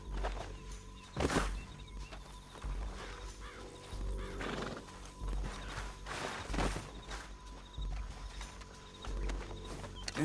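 Horse in the video game Red Dead Redemption 2, repeated whinnies and snorts with steady clip-clop hoofbeats of galloping, mid-distance, over game ambience and no talk.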